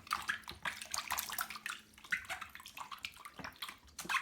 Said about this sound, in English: get this bar of soap, and drop it into the water